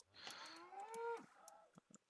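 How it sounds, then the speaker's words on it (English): A Holstein cow from the Minecraft Tekxit 3 modpack gives a single drawn-out moo, rising then falling, followed by a few faint clicks and game sounds. "We have a Holstein cow"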